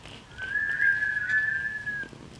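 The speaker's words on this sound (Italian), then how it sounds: "poi fece un fischio." A single sustained human whistle, steady and clear, held for about one and a half seconds over a quiet background.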